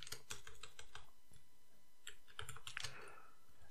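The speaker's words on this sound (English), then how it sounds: "I'll type here select" Quiet, close typing on a computer keyboard, a quick irregular run of soft key clicks and taps with no other sound.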